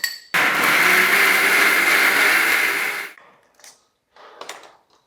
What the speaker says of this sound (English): I'm going to put it in the blender